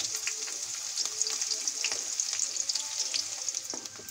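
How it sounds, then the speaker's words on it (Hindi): Finely chopped onion and sliced green chilli frying in hot oil, a dense, steady sizzle heard close up, with occasional light scraping from stirring and no voices. "अब इसी के साथ हम ऐड कर देंगे अपना प्याज फाइन चॉप किया हुआ।"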